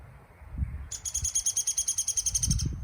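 Woodpecker giving a rapid, evenly spaced series of sharp, high call notes lasting about two seconds, fairly close, over low outdoor rumble and background noise.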